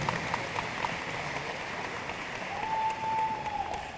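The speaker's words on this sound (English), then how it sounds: "Now you can applaud." Moderate audience applause at a university freshman welcome, a steady wash of clapping held at an even level throughout, slightly distant, with a faint tonal whistle in the room partway through.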